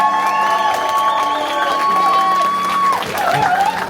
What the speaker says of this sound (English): Give y'all some round of applause right